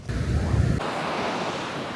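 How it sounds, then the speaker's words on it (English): Waves of the Baltic Sea wash onto the beach of the Latvian coast on a moody day, a broad close roar of surf with heavy wind buffeting the microphone at the start. "we are back at the beach and the sea seems to be quite moody today"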